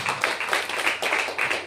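A church congregation claps together in quick rhythmic bursts, many hands close and loud, keeping a steady beat with faint voices underneath.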